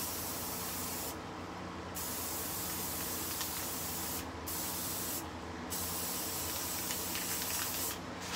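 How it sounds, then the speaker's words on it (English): A spray paint can hisses continuously and close up, with a few brief pauses where the nozzle is released before spraying resumes, coating a travel mug. "I'm not spraying the whole cup."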